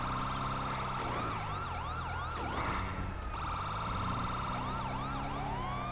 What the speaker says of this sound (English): I love when the ambulance is far away